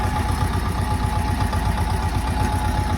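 Engine of a T-25 tractor ploughing a garden plot, a steady mid-low diesel chug with a fast even pulse, close and fairly loud, running alone without any talk.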